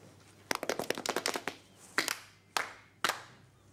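A burst of quick, uneven hand claps, then three separate loud claps spaced evenly apart, fairly close and dry.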